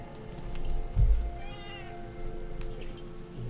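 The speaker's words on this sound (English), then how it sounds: "I'm trying to do some cat wrestling to keep her entertained and happy, so she's not crying at me." A house cat meows once, a short, clear, fairly close cry, with soft rustling before it and low background noise after.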